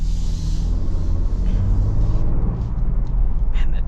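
A 2026 Ford Bronco Badlands convertible pulls hard under acceleration, its engine and road noise forming a loud, steady low rumble heard from inside the cabin with no break.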